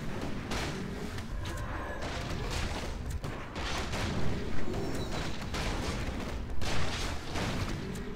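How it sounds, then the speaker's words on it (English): Dense Warcraft battle din fills the whole stretch with overlapping impacts, booms and clashing hits, a continuous loud barrage with repeated sharp bursts and no talk. "A player's forces are under attack."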